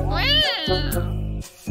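A cartoon cat gives a drawn-out, rising then falling meow followed by a second longer meow, close and clear, with no other voices.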